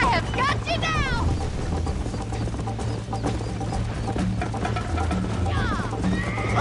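Horses in the Western game Red Dead Redemption whinny and neigh, with one sharp neigh near the start and another near the end over steady galloping and a running music bed, while a voice talks briefly.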